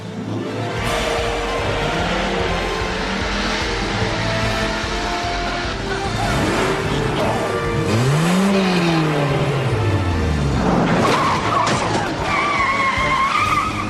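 A car skids with tires squealing in a 1998 action film; a loud rising and falling screech peaks near the middle, over a dense, busy soundtrack with some voices.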